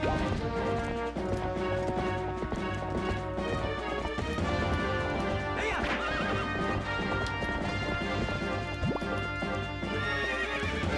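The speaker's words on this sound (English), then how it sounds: "Don't spin around, you dumb horse." Horse in Twilight Princess on the Wii, loud repeated neighs and whinnies over rapid clip-clopping hooves as it spins around, with crashes and dense game sound throughout.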